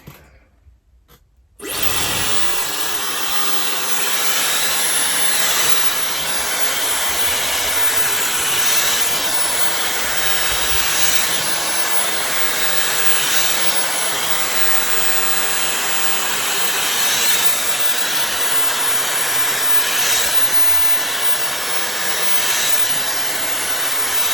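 A Dyson Supersonic hair dryer, fitted with its comb attachment and set to low air and low heat, blows in a loud, steady, close whoosh with a faint high whine that runs unbroken after it switches on.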